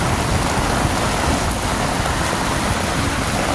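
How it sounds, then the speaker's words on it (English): Heavy rain pours onto Westchester Avenue in the Bronx, a loud, constant wash of drops hitting pavement and surfaces, unbroken and close throughout with no voices. "It's a lot of rain."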